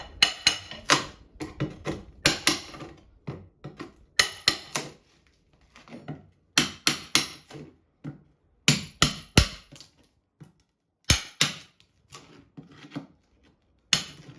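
Irregular sharp metallic knocks and taps of a hammer removing carpet tack strips and nails from a floor, in bursts of several strikes with short pauses between, nearby.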